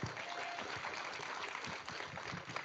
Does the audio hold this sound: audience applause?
yes